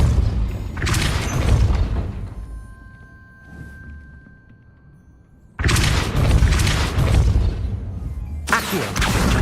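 Hogwarts Legacy gameplay: the Depulso spell bursts out with a booming, crashing impact. A quieter stretch with a faint tone follows, and then a second heavy burst of rumbling impacts hits.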